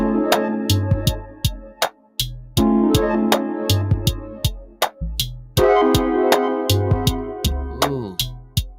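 Synthesizer sounds modulated by an LFO on a home music desk: repeating bursts of buzzy tones and plucked hits in a looping pattern, with bass notes pulsing and pitch shifting between phrases, loud and close with no talking.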